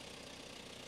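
A Belarusian tractor engine idling at close range, a steady, dense low rumble with an even rapid knock that holds without change for the whole moment, with no voices.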